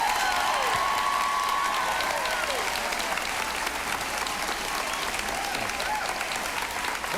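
A large concert audience applauds steadily and loudly for a country music singer's 1993 performance, with a dense continuous wash of clapping and faint crowd voices and whistles throughout.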